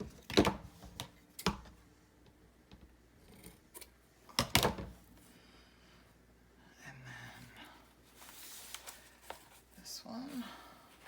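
Scissors snip through ruffle trim for a purple faith journal, a few sharp close cuts near the start and again around the middle, with quieter rustling of paper and trim between them.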